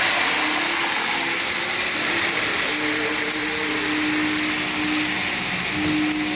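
Chili paste sizzling and frying in hot oil with mustard seeds and curry leaves, a steady broadband hiss that stays loud and even throughout, with no talking.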